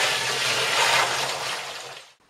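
Sugar water poured into a fermentation container for a home jam mash, a steady continuous splashing pour lasting about two seconds before stopping abruptly, close and loud with no talk.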